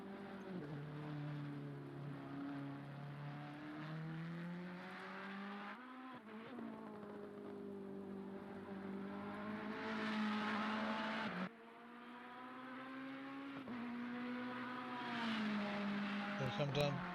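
Race cars in a Ferrari-led field roar around Spa in a racing video game's 24-hour event, engines droning and shifting pitch through gear changes. Steady commentary runs over the top throughout.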